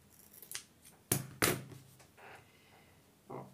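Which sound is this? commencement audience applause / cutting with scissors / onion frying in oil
cutting with scissors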